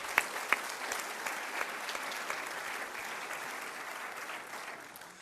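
Applause from an audience at a college State of the College address, sustained and fairly distant, with a couple of sharper individual claps near the start before it slowly tapers.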